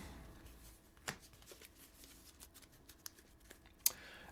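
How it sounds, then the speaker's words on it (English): HeroQuest board game cards handled on a table: a quiet run of soft shuffling and papery rustles with a couple of sharper flicks, close and alone. "Let me get out the card for the zombie."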